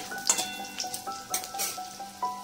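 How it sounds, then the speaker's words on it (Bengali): Whole cumin, green cardamom, cinnamon, clove and a pinch of asafoetida tempering in hot oil for a vegetarian potato, pointed gourd and paneer curry, giving a steady close sizzle with scattered sharp pops and crackles, and faint tonal sounds running beneath. "আর এর মধ্যে আছে একটুখানি জিরে, 2টো ছোট এলাচ আর দারচিনি, লবঙ্গ আর একটুখানি হিং, এটা দিয়ে দিলাম ফোড়নে।"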